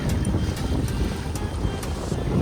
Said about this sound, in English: It feels good to have the boat in the water.